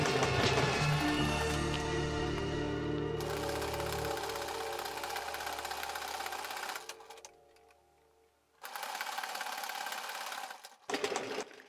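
Sewing machine stitching fabric bunting, running in a steady loud whirring burst for several seconds, then stopping briefly before starting again for two shorter runs.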